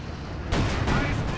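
Tank cannon fire in the strategy game Company of Heroes 2, with a Panzer scoring a direct hit on an IS-2: a sudden heavy boom followed by rumbling battle noise, loud and close.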